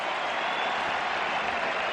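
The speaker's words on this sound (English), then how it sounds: "he gets a very generous round of applause" A stadium crowd at an Italy versus England international football friendly applauds warmly as a substituted player leaves. The clapping and crowd noise form a steady, distant wash.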